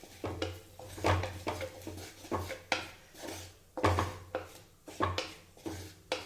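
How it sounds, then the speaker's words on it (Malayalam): Spices and a pinch of fenugreek powder being sautéed in a pan for a homestyle fish curry, with a spoon scraping and clinking against the pan in a steady, repeated rhythm, close and moderately quiet, with no talk. "ഇതെല്ലാം കൂടെ നമുക്കൊന്ന് വഴറ്റിയെടുക്കാം."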